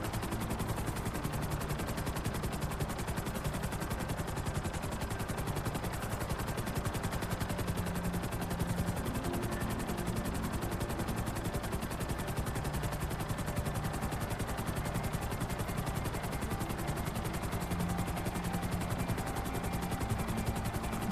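A helicopter in GTA 5 flies with a steady, loud rotor chop that thumps rhythmically and without a break throughout, alone with no voices.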